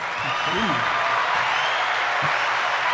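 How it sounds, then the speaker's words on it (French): Applause fills a radio-style chronicle segment in French, a steady wash of clapping lasting the whole stretch, with a brief voice-like tone near the start. "Nous t'applaudissons"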